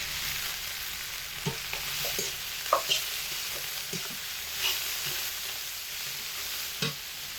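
Onion, tomato and chopped coriander stir-fried in hot oil, giving a steady close sizzle broken by scattered light spatula taps and scrapes in the pan, with no voices.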